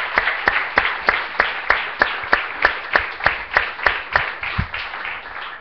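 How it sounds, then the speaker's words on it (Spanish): A church congregation claps in unison during a Spanish-language service, a steady rhythmic beat of sharp claps roughly three per second, moderately close and with no talking over it. "Démosle un aplauso al Señor,"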